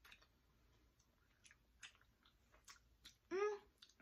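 Crunchy, close-up chewing of green apple flavored Japanese candy, with small bites and mouth sounds running through and a louder crunch near the end.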